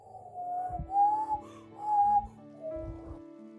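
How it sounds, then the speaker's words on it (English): A person whistles a short tune of a few clear notes in the open, with no talking. "Can you do a little whistle?"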